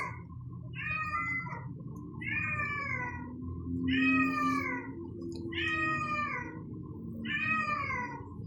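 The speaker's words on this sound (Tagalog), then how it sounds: "Sobrang ingay ng pusa guys." A cat meows five times in a steady rhythm, loud and close, over a faint low background hum.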